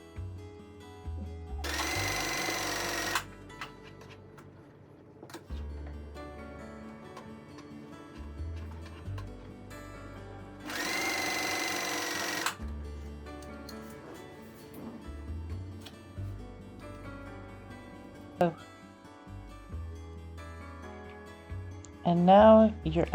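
Domestic sewing machine stay stitching pieces of a Vogue 1862 gathered dress, running in two short bursts of fast, steady whirring separated by quieter handling and a few clicks, with someone talking in between.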